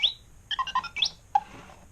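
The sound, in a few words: R2-D2 Star Wars alarm clock beeping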